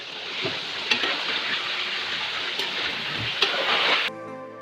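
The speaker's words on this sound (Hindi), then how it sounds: "मैं इसको हल्का सा फ्राई करूँगा गोल्डन कलर में" Chicken pieces fry in oil in a karahi, giving a steady close sizzle with a few sharp pops and stirring clatters before the sound cuts off near the end.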